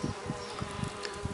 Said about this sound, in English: Look, that is an Osmia rufa.